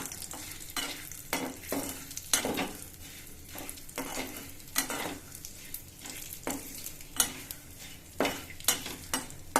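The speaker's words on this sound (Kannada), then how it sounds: "ಬಿಸಿಗೆ ದ್ರಾಕ್ಷಿ ಗೋಡಂಬಿ ಎಲ್ಲ ಫ್ರೈ ಆಗುತ್ತೆ" Raisins and cashews fry in a hot pan, giving a steady crackling sizzle broken by repeated scraping stirs of a spoon against the metal, close up with no talking.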